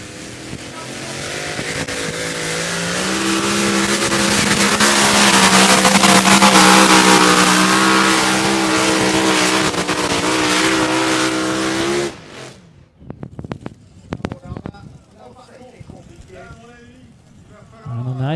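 A Hemi-powered pulling tractor roars loudly at a tractor pulling event in Bernay, France, its engine building to a sustained howl for about twelve seconds before cutting off, followed by crowd noise and an announcer talking.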